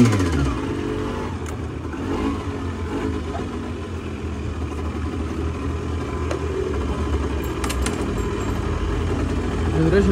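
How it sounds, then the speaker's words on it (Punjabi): A warmed-up motorcycle idles and revs for a stretch, its engine rumbling continuously close by with some rattling, while voices are heard talking over it. "ਕਰ ਲਈ ਮੋਟਰਸਾਈਕਲ ਗਰਮੀ ਤੋਂ ਫਿਰ ਤੁਰਦੇ"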